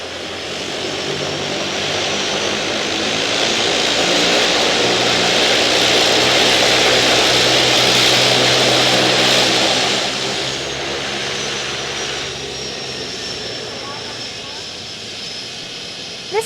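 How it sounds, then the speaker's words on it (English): Harbour Air de Havilland Otter seaplane built in 1953 with a propeller engine, roaring loudly as it passes at Vancouver, swelling to a peak midway then fading into a lower steady drone. "This Harbour Air de Havilland Otter is ident Golf Hotel Alpha Zulu and is serial number 19."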